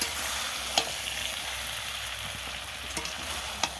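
Chalta pickle cooks with sugar in a pan under constant stirring, a close, even sizzle punctuated by sharp spatula knocks and scrapes against the pan, without any voices.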